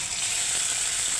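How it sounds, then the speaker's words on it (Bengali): Marinated beef, coated with ginger-garlic paste and soy sauce, frying in a hot pan for beef noodles, giving a steady, close, even sizzle with no talk over it. "ভেজে নেব। মাংসটা ভাজা শেষ।"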